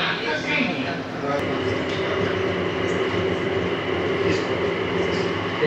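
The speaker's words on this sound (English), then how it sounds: "Train is departing." A train rumbles steadily as it pulls away and runs along the track, a constant close mechanical roar with faint wheel noise and some voices in the carriage.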